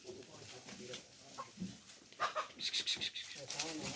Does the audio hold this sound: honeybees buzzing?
no